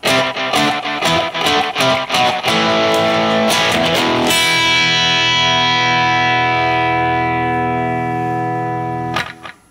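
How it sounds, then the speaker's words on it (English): Roland RE-150 Space Echo tape echo sped up, loud repeating guitar stabs that blur into a dense, ringing feedback wash, then hold as a sustained drone before cutting off. "So there you have it, Space Echo RE-150."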